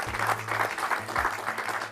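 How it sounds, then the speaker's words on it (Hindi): Audience applause at a live televised event, dense steady clapping from many hands that runs loudly throughout, with a low hum underneath. "बहुत एक जोरदार तालियां उन सब लोगों के लिए"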